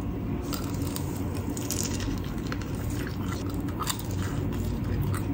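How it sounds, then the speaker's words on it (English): Close-up biting and chewing of a cheese ball, with soft wet squishes and small crunches in quick irregular succession against steady background noise. "The first time eating a cheese ball."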